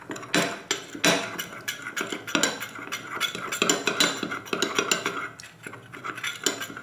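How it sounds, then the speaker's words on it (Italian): A spoon clinks and scrapes against a bowl in quick, irregular strokes, stirring cornstarch into lemon juice, close and fairly loud, with no talking. "faccio sciogliere per bene 10 g di amido di mais con 2 cucchiai di succo di limone"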